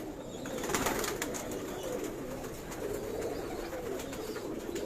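High-flyer pigeons kept by a Karachi fancier coo and call amid a steady, dense wash of rooftop background noise. The bird sounds are fairly faint and continuous, and no one speaks.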